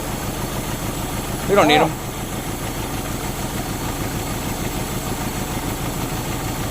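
Manual Euro-spec Mercedes 190E 2.0 engine running rough on only two cylinders, a close, steady uneven idle throb throughout while a person speaks briefly over it.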